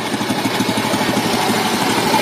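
A Kawasaki Athlete 125 motorcycle engine idles smoothly up close, a steady, even putter with fast regular pulses and no voices over it.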